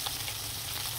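Fish frying in hot oil, a constant close sizzle and crackle with no voices.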